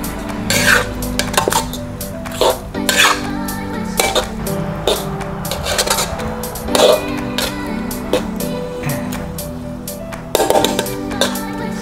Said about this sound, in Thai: โอเคจะใส่สปาเกตตี้ลงไปเลยนะ